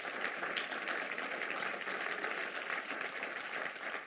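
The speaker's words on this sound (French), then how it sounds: "On acclame Jésus." A church congregation claps in sustained, dense applause that fills the room evenly for several seconds, loud and continuous.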